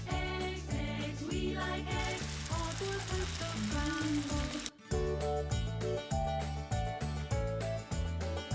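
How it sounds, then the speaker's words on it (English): Pepper and egg sizzle in a frying pan, a steady hiss that swells in the middle, heard under loud rhythmic backing music that plays throughout. "and then I start frying."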